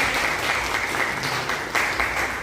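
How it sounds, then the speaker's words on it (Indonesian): Applause from students and teachers at a school teaching session, a brief burst of continuous clapping that stays fairly steady throughout. "Terima kasih tepuk tangan untuk kita semua."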